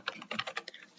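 Fingers typing on a computer keyboard while entering a name in an Excel spreadsheet, a rapid close-up burst of about a dozen light, uneven key clicks.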